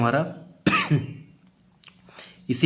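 A person with a cold coughs and clears the throat in a few harsh bursts between pieces of a teaching talk. The sounds are close and loud, with a quiet pause in the middle.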